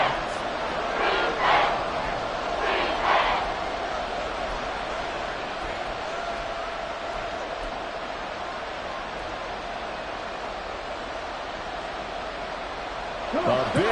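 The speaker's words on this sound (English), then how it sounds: "A big play here as the crowd noise rises" Stadium crowd noise in a Madden NFL football video game during a Colts vs Texans matchup, a broad steady roar that swells in waves through the play, with a couple of louder cheering surges near the start and a lift at the end.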